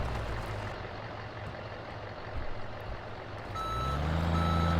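Truck reversing alarm beeps steadily while a trailer is backed up in Farming Simulator 17, over a loud droning diesel engine, with the beeping strongest near the end.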